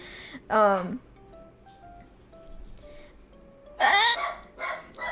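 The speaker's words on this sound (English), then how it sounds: "I'm sorry about the dog." A dog barks twice, close and fairly loud, with a short pause of quiet room tone between the two bursts, the second followed by a softer yip.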